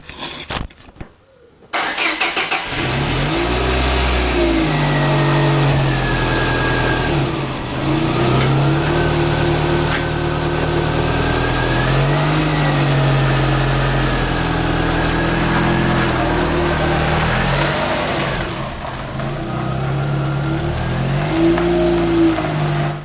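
A Peugeot 605 car engine cranks and starts, then runs steadily with a loud, rough exhaust rumble, rising and falling as it revs.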